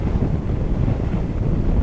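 Steady wind buffeting a microphone outdoors on a rainy Yorkshire Dales pass, a dense low rumble that holds unbroken and loud throughout, with no voices.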